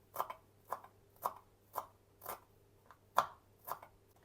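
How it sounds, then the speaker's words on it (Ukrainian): A knife chopping fresh dill on a board in a home kitchen, eight crisp, evenly spaced cuts at about two per second, close and quiet, with no talking. "Трішечки укропа добавлю, так. Небагато. Міленько його так поріжу."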